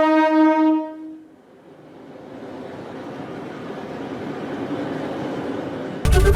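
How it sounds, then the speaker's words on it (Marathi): A hydrogen train on the Jind–Sonipat line sounds a loud, steady horn that ends after a second, then runs past with a rising rumble and clatter that stays broad and continuous to the end. "जिंद ते सोनीपत या 89 किलोमीटरच्या मार्गावर ही हायड्रोजन ट्रेन धावणार आहे"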